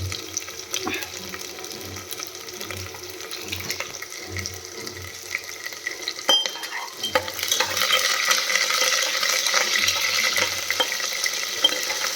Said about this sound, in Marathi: सर्वात प्रथम आपण याच्यामध्ये फुलगोबी टाकून घेऊया फुलगोबीला आपल्याला छान लालसर द्यायचा